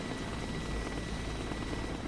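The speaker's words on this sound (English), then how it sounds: "That's an attack helicopter." An attack helicopter in the video game Broken Arrow gives off a steady, dense rotor and engine roar that fills the short stretch without a break.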